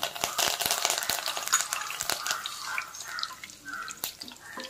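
Curry leaves dropped into hot oil already holding mustard seeds and cumin, crackling and spitting in sharp, irregular pops over a bright hiss, close and fairly loud.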